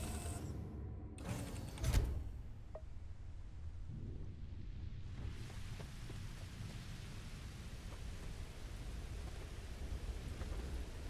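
Rain and thunder in Starfield, with a sharp crack of thunder and rumble early on, then a steady hiss of rainfall continuing throughout.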